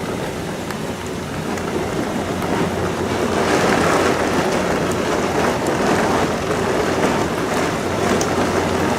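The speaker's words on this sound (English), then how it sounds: "Now that's how you fill up a rain barrel." Heavy summer rain pours steadily into a garden rain barrel in New England, a dense, continuous hiss and patter that swells louder midway, with water splashing close by and no talking.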